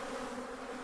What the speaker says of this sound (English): these are the Africanized honeybees